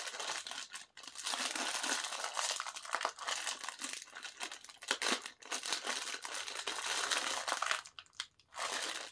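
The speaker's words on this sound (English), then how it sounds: "That's the first time the bag bust open properly." A strawberry snack bag is torn open by hand without scissors, giving a long run of loud plastic crinkling and crunching with sharp rips and brief pauses.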